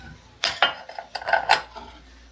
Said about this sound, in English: I'm going to mix the baking powder and the nutmeg powder and salt here